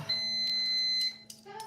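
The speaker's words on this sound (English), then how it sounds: "sorry about that beeping" A high electronic alarm tone beeps in two or three short bursts, steady pitched and fairly close, then cuts off.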